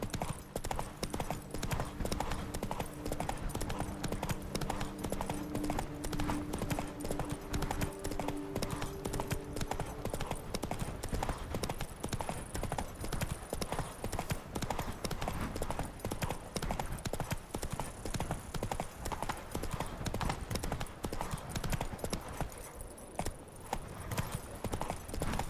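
Roach the horse from The Witcher 3 gallops in a steady, rapid clip-clop of hooves that carries on throughout, with a brief whinny and some faint background voice.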